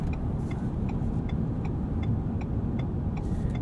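Inside a 2021 Ford F-150 PowerBoost hybrid pickup driving in sport mode, a steady low engine and road rumble with faint regular ticking, like a turn signal, and no talk.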